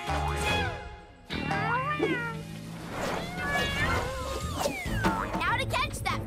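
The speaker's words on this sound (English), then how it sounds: "There are still more kittens." Kittens meowing in a PAW Patrol cartoon rescue scene, a busy overlapping chorus of high wavering mews, close and loud, mixed with cartoon voices and background music.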